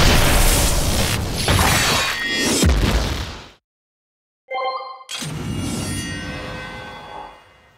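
A Kamen Rider Geats Bujin Sword buckle toy plays its finisher effects: loud booming, slashing and whooshing sounds, then a brief silence, a short rising electronic chime, and another long crashing burst that fades out, with no talking.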